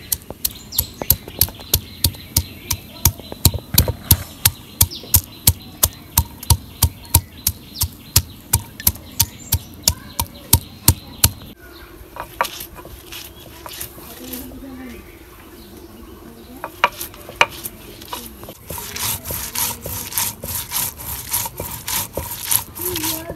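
Garlic, onion and ginger are ground on a grinding stone with steady, rhythmic scraping strokes. The strokes are close and regular at first, then turn sparser and rougher, with occasional voices underneath.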